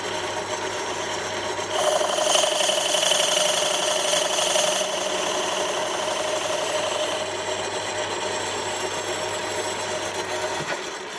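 Metal lathe turning down the surface of a workpiece, a steady mid-pitched machine whir with a louder cutting burst early on, continuing evenly until it stops near the end.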